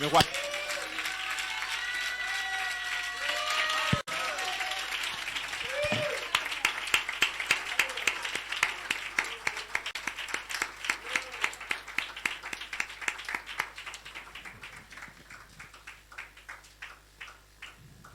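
A church congregation claps in steady rhythmic unison, the claps loud and close and continuing for several seconds after a voice is heard at the start, then tapering off near the end.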